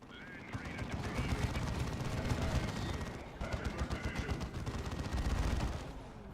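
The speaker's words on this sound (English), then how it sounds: "These guys opening fire." Dense rapid gunfire from units opening fire in Dawn of War II Retribution, a sustained rattling barrage like a machine gun or assault cannon that runs for several seconds with brief dips in intensity.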